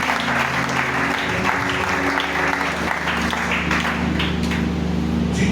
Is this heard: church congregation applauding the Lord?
yes